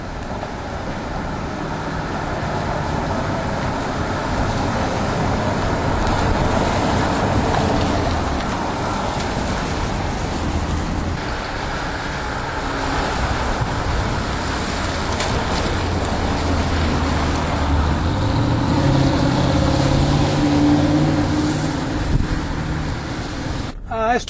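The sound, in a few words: Porsche Cayenne driving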